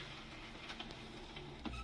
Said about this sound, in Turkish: kafayı yazıcımıza taktık ve e, nozul testini alıyoruz